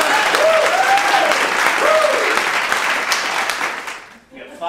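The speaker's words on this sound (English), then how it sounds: "Now you want to clap a little bit like the other contestant if you're excited." A game-show contestant and studio audience clap together, sustained loud applause under a host's talking that fades out near the end.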